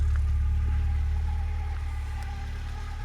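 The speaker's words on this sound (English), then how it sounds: "this amazing car that we're driving, this fantastic, beautiful Golf GTI could be yours" Volkswagen Golf GTI driving, a steady low engine hum and road rumble heard from inside the car, even and continuous with slight fading, without voices.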